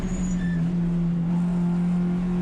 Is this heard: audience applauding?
no